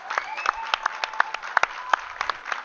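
An audience at a foosball doubles final claps in scattered, individual hand claps, fairly faint and sparse rather than a full ovation, with some background voices present.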